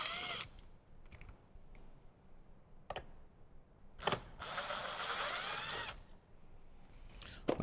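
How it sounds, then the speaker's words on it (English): Power driver backing T25 Torx screws out of the plastic trim panel of a Jeep JL, in short separate bursts with one longer whir near the middle, clicking handling noises between runs. "So now we're going to remove the 3 T25 on the top of the plastic trim"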